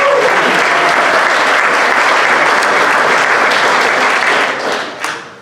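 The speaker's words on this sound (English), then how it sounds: "let's give all the adults a big round of applause for all the things" A school awards assembly crowd gives sustained applause for the staff, dense clapping filling the hall for about five seconds before thinning out and fading at the end.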